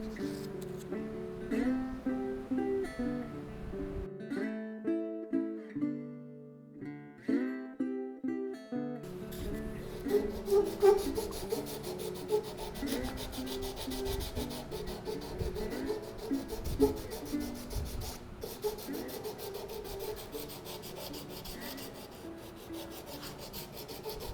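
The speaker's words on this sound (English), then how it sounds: "I know a lot of people hate sanding" Sandpaper rubs back and forth over wooden knife scales for a bushcraft knife in rhythmic strokes, fairly close and steady, with background music playing throughout.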